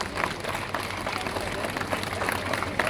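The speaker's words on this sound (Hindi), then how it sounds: "आप लोगों की तालियां निरंतर बजती रहनी चाहिए" Audience clapping continuously at the inauguration of the Craft Root crafts exhibition in Indore, a moderate wash of applause from a gathered crowd, with a voice speaking over it.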